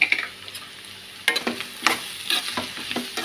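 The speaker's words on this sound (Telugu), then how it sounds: "సాల్ట్ వేస్తే కొంచెం తొందరగా మనకి ఉల్లిగడ్డలు అనేవి వేగుతాయి" Onions fry with salt in a pan, close up and fairly quiet, with a steady sizzle under irregular scraping stir strokes.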